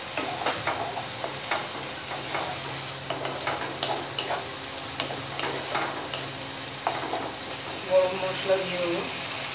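Cumin seeds go into a pan of tomato gravy cooking for a taro root and prawn curry, giving a continuous soft sizzle with stirring scrapes and a brighter crackle near the end, close and moderately loud.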